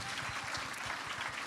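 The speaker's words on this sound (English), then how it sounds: "Give yourselves a round of applause." An audience at a pediatric cancer research fundraising program claps in steady, dense applause, a brief continuous wash of hand claps with no voices on top.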